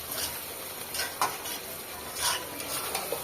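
Meat with garlic stirred and fried in a pan, a steady sizzle under repeated scraping strokes of a spoon against the pan, close and moderately loud, with no talking.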